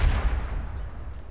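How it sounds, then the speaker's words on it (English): Bombing explosions in the online game ArcheAge rumble as a dense, continuous low roar of blasts and booms, loud and steady throughout without any talking. "Someone's bombing something."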